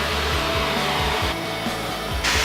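A MAPP gas torch heating a sheet of drywall, giving a steady, loud roaring hiss that continues without a break, with a low rumbling flutter underneath.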